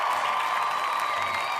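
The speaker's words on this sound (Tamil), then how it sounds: "பெரிய கைத்தட்டலோட வாங்க நாகமுத்து பாண்டியன்" Broad, steady applause from a crowd at a Pongal special pattimandram debate stage event, a dense continuous wash of clapping with no gaps, moderately loud and filling the hall, greeting a speaker.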